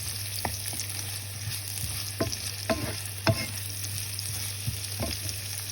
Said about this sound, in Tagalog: Isabay na natin ang bawang. Ihulog ang bawang.